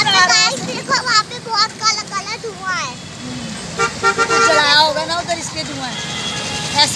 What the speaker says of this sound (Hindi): इस टाइम इतना ट्रैफिक हो रहा है, इतना ज़्यादा ट्रैफिक हो रहा है